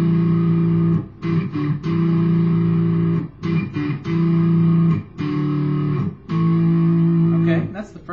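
A distorted electric guitar plays a riff, repeated chunky chord phrases with brief gaps, close and loud.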